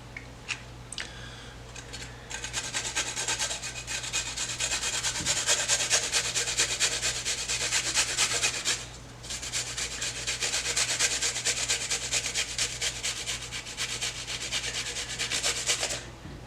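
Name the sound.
grating garlic clove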